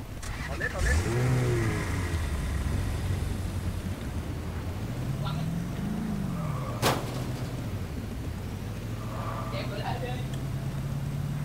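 Motorbike engine in the battle royale game Rules of Survival, revving up and down with rising and falling pitch, close and steady, beneath people chatting.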